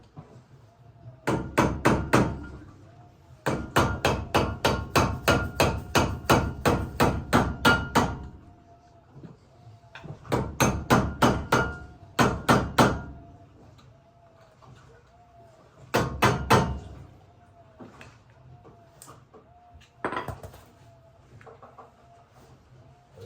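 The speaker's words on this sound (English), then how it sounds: "I'm just gonna tap it with a flathead, just in different locations till I can remove it." A flathead screwdriver hammered against a Ford Ranger front wheel bearing cap in bursts of sharp metallic taps, rapid even strikes in clusters with short pauses, close and clear.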